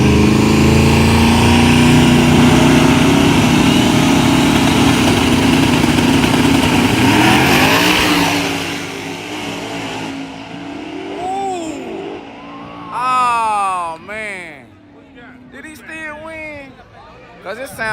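A loud, roaring drag racing car engine drones steadily at a drag strip and then fades, followed by several sharp revs rising and falling in pitch, with crowd noise behind.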